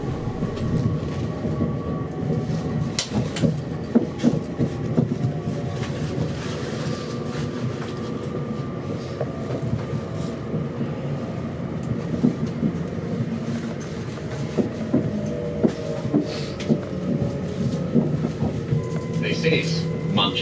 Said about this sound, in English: This is Manchester Victoria, where this train terminates.